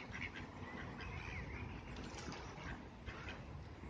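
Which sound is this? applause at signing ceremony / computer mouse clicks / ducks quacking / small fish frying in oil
ducks quacking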